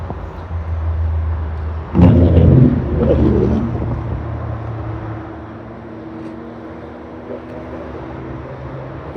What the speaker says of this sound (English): You can probably hear the cars.